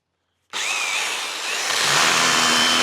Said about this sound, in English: So we'll get these sanded up first and then take it from there.